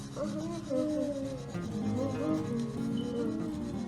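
A pan of cheddar cornbread batter is shaken to level it, making a continuous close rubbing, scraping sound of the pan sliding back and forth over a surface.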